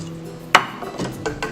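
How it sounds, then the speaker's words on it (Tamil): A spoon scrapes and knocks against a pressure cooker while ven pongal is stirred, one sharp clack followed by a few softer scraping strokes, close and fairly loud. "நல்லா கிளறி விடுங்க"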